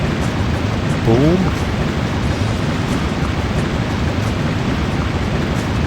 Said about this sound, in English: That's a waterfall right by my ear.